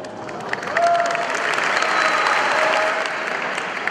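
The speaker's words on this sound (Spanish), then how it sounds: "Renovamos ese aplauso" Steady audience applause fills a badge-presentation ceremony for students, rising quickly after a soft start and holding dense and even throughout, with a faint tonal whistle briefly audible over the crowd.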